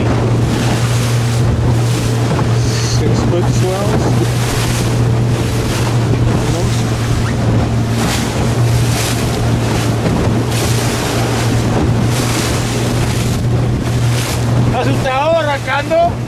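Open lobster boat crossing roughly six-foot ocean swells off Isla Juan Fernandez, its motor droning steadily under loud wind and rushing water, with voices talking intermittently over the noise.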